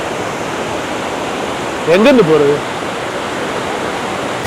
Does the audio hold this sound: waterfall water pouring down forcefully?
yes